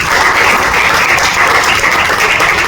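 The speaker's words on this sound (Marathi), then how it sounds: "त्यांच्यासाठी एकदा जोरदार टाळ्या झाला पाहिजे" A crowd applauds the cameraman at a film event for the Marathi devotional film Danka Harinamacha, the clapping loud, dense and continuous throughout without pause.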